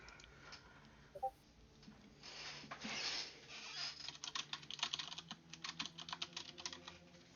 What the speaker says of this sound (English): Yasha and Susie are typing.